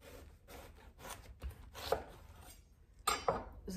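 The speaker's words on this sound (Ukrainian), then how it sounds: "Можна її так подовго різати, і хто як хоче." A knife cuts a round white cabbage into small pieces for a sour fermented vegetable mix, giving close, crunchy chopping strokes over a steady background hiss.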